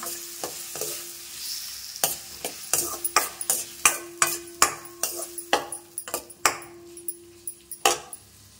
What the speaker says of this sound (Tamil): இந்த வாழைப்பழம், இந்த மாம்பழம் 3 சேர்த்து நல்லா வறுத்து எடுத்துக்கலாம்